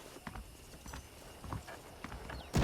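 Horse hooves clip-clop in a steady walking rhythm in the video game Red Dead Redemption, soft and moderately close, ending with a sudden louder thump.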